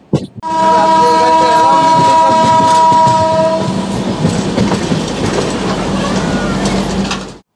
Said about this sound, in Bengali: ট্রেন ছেড়ে দিল এনজেপি বা নিউ জলপাইগুড়ি জংশন থেকে